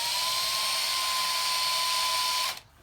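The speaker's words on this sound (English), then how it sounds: "Now the nice thing about brass, if you happen to drill this too big, you can always" A drill bores a hole in brass with a steady, high-pitched whine at close range, running alone and constant for about two and a half seconds before stopping abruptly.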